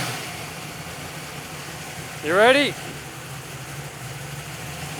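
A drag car's new engine idles on a dyno, a low, steady rumble that runs throughout. Someone speaks briefly partway through.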